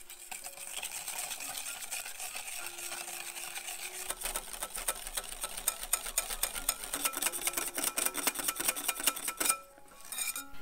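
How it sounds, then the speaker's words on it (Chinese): Five egg yolks whisked with sugar for a Japanese soufflé sponge cake, a steady rapid clinking of a whisk against a bowl that grows busier and more rhythmic, close and alone, stopping near the end. "要打发到浓稠泛白的程度。"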